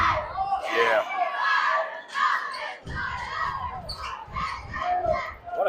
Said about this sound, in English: What a great crowd tonight here in Madison County, Indiana.